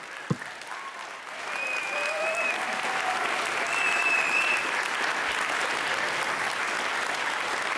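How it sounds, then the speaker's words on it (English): Steady audience applause at a college peace oratorical contest, a dense wash of clapping filling the hall throughout, with a brief knock near the start and a few faint tonal squeaks above it. "Let's all give our speakers another round of applause"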